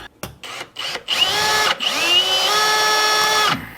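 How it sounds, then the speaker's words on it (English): A step drill bores through steel on a Moto 4 200 ATV part, starting with a few short bursts and then running in one loud, steady, high-pitched whine that cuts off at the end, close up with no talking. "I went to the 3rd step on this, on the step drill"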